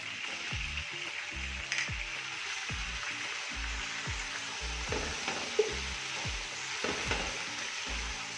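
Steady sizzling of ginger garlic paste frying in a hot pan, with repeated scraping and stirring strokes at an even rhythm, close and moderately loud, no voices.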